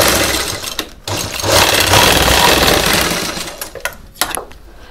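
A sewing machine stitches a washing machine cover made from saree fabric, giving a loud, dense, close mechanical whirring that runs almost continuously with a brief break and a few knocks near the end.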